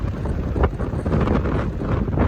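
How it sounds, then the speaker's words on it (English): Gusty wind blows outdoors at 1 a.m. beside the track at Bryant Road while waiting for the CP Holiday Train, a steady low roar buffeting the microphone throughout with no voices. "It is windy out here."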